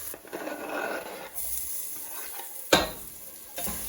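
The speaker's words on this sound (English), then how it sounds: "I'll keep on stirring in between till the onion gets half brown," Onions frying in a pan with cloves and green cardamom, stirred now and then: a steady soft sizzle broken by a few sharp utensil scrapes against the pan, close and moderately loud.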